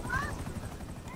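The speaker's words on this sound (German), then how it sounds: "Jetzt soll ich mir ein Heli nehmen." Helicopter in the GTA 5 Online video game on Xbox One: a steady rotor thump chopping underneath continuous talk.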